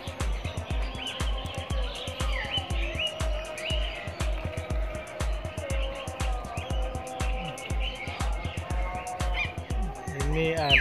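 Oriental pied hornbill squawking in a walk-through aviary at a bird park, harsh repeated calls in a steady run, mixed with other birds and voices talking nearby.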